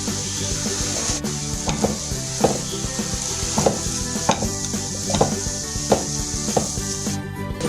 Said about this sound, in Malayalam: ചിക്കൻ ഫ്രൈ ചെയ്ത അതേ പാനിലേക്ക് തന്നെയാണ് ഈ ഉള്ളി ഇട്ട് കൊടുക്കുന്നത്.